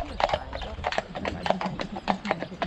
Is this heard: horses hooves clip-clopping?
yes